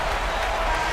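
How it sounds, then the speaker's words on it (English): A home crowd cheers and applauds a win in the NBA 2K24 video game, a steady dense roar of arena noise filling the moment without a break. "And so the home crowd treated to a win."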